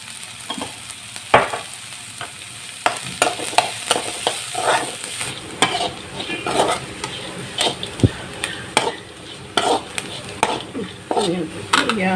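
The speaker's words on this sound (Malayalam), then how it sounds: "നല്ലതായിട്ടൊന്ന് വഴറ്റിയിട്ട് മഞ്ഞളിട്ട് കൊടുത്താൽ മതി." Ginger sautéed with turmeric in a pan for a traditional ginger theeyal sizzles steadily while a spoon scrapes and clinks against the metal in quick irregular strokes, close and loud.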